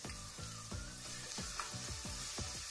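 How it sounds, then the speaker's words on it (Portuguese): Garlic fries in hot olive oil in a pan for a bolognese lasagna, giving a steady, close sizzle with rhythmic scraping strokes as it is stirred, fairly quiet, with no voices. "A panela, vou colocar nosso alho"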